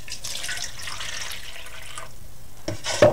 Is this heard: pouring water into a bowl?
yes